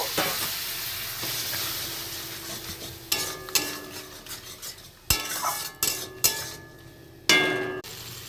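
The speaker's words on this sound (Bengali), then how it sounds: "হলুদ দিলাম দিয়ে একটু জল দিয়ে আবার একটু ভেজে নেব" Spices with turmeric and a splash of water fry in a pan for a jackfruit and prawn curry, a loud hissing sizzle that fades, then bursts of spatula scraping and metallic clinks.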